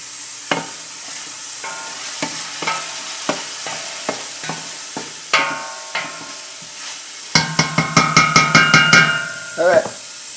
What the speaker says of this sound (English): you guys probably can hear it sizzling